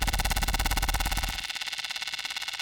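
A bright buzzing Serum synth with a very fast delay effect pulses in rapid, stuttering repeats, thinning out partway through while the fast echo keeps fluttering.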